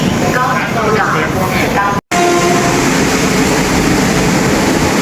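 Busy Delhi railway station platform: a steady, loud wash of train rumble and station noise fills the whole stretch, briefly cut by a moment of silence, with voices mixed into the din.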